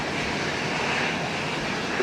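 Airliner engines roaring during takeoff from runway 12 left at Minneapolis–St. Paul International Airport, a broad steady rumble heard from a distance without any talking.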